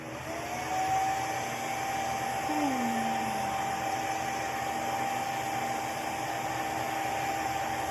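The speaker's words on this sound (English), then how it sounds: "I'm going to touch this round up again with the blow dryer because it's not quite dry" A hair dryer blows with a steady, loud whooshing hum and a faint whine, running continuously without breaks.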